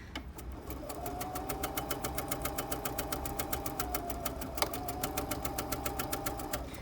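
A sewing machine stitches a seam on a drawstring bag, a steady rapid needle clatter running throughout at moderate level with no pauses.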